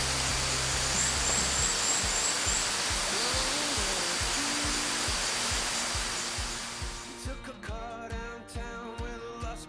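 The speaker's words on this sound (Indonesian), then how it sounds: "sekarang kita udah sampai di Curug Bandung, curug kedua dari 4 curug yang bakal kita kunjungin hari ini" Waterfall at Curug Bandung in Karawang, a steady broadband roar filling the first six seconds before easing, with a low periodic thumping underneath and the rush continuing more faintly at the end.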